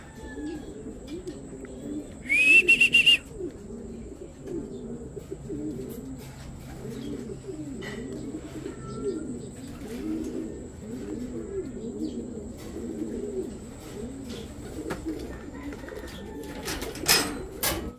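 Racing pigeons coo softly in a repeating low rhythmic burble at a loft after a sprint race, with a brief sharp electronic beep early on and faint clicks near the end.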